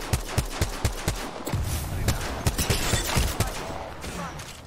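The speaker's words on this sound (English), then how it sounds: "I am taking fire." Gunfire in PUBG, a long run of sharp shots at irregular rhythm, some close and punchy, others blending into a steady rattle, with faint voices underneath.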